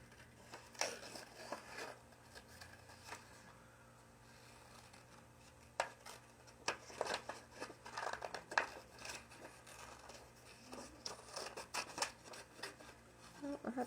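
Scissors snip through red construction paper in short, crisp bursts with pauses between them, close and quiet, as paper rustles faintly.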